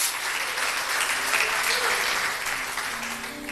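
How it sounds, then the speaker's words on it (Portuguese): A church congregation claps together in a dense, steady burst of applause lasting a few seconds, fairly even in loudness and slightly easing toward the end. "Aplauda o nome do Senhor Jesus."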